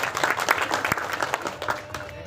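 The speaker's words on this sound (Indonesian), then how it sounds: "Tepuk tangan untuk kita semua." Applause from a crowd at a community aid handover event, scattered clapping close by that mixes with voices talking over it through a brief stretch.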